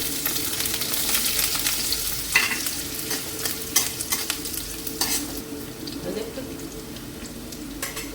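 Diced carrots frying in oil and being stirred in a pan for pulao, a steady close sizzle broken by repeated scraping strokes of a spatula, with someone talking over it.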